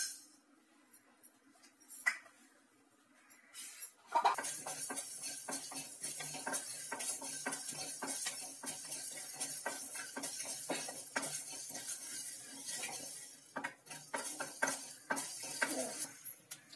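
Mustard seeds and fenugreek dry-roasting in a pan without oil for kothamalli thokku, heard as a quiet start, then a close, continuous patter of seeds and spoon stirring and scraping in the pan.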